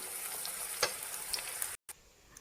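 Cabbage veg lollipops deep-frying in hot oil, a steady close sizzle with a few scraping stirs, briefly cut to silence before the frying hiss resumes.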